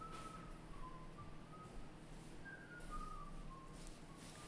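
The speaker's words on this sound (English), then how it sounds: "Could you not whistle?" Someone whistles in a lecture room, a series of thin, wavering tones drifting up and down over a steady background hum, fairly quiet and with no talk.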